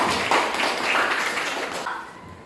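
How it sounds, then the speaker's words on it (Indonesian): Students in a classroom clap briefly, a short burst of hand claps that fades out after a couple of seconds. "Iya, tepuk tangan."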